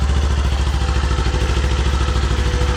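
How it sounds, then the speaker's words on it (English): A Kawasaki Z400 motorcycle idles steadily through its stock exhaust, a close, even low putter with light mechanical clatter, running alone at constant level. "A little putt from the stock exhaust."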